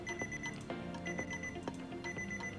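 A timer alarm goes off to end a round of a timed drawing game at an art party, giving a loud, steady run of repeated electronic beeps in regular bursts with no talk over it.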